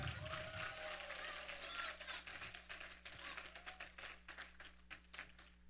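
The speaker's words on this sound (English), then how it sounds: "Can we just start off by giving Jesus a big hand clap?" A church congregation at a mid-week service claps hands together, ragged individual claps rising over a crowd murmur and organ-like hum, growing sparser and more distinct toward the end.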